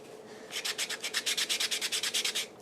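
A fingernail file rubs graphite off a surface in quick rhythmic back-and-forth strokes, about fifteen close scratchy passes with no talking.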